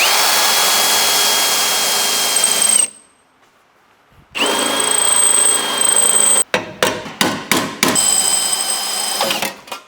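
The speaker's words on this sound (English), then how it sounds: "there's only like 3 spot welds or 4 spot welds to drill to take this one off" Several long bursts of a high-pitched power drill whining as it drills out spot welds on a car body panel, separated by a pause, followed by a series of short sharp drilling bursts. Close and loud, no talking.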